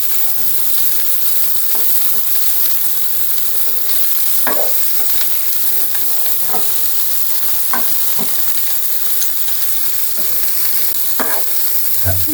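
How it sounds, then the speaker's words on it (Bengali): Cauliflower pieces fry in oil in a pan for a cauliflower korma, giving a steady, even sizzle broken by periodic scraping stirs, close and moderately loud, with no talking. "এটা আমি বেশ কিছুক্ষণ একটু ভাজবো, কয়েক মিনিট ভাজার পরে উঠিয়ে ফেলবো।"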